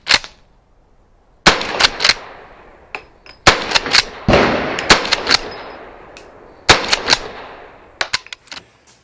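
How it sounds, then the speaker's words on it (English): Rifle shots ring out from an 1884 Colt Lightning pump-action rifle chambered in 44-40: about a dozen loud, sharp cracks, some spaced apart and some in quick pairs, each with a short echoing tail, heard outdoors with no talking. "there's nothing quite as cool as shooting a pump action rifle in 4440"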